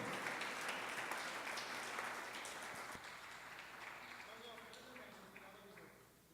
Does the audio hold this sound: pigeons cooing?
no